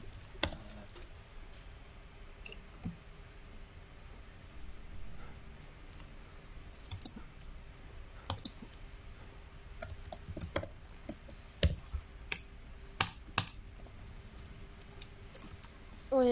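Sharp, irregular clicks from a computer mouse and keyboard during PC gaming, quiet and close, scattered in uneven bursts over a low steady hum with no talking.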